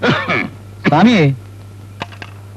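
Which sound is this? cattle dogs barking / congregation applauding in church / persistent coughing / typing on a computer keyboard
persistent coughing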